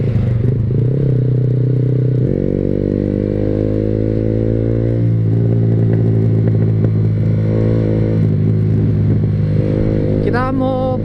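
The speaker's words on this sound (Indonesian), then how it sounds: "Kita mau pure sound aja ya, suara knalpot SC Project." A Yamaha R15 V3 motorcycle with an SC Project exhaust idles and revs nearby, a loud steady buzzing engine tone that rises and falls in pitch with throttle blips, with brief voices over it near the end.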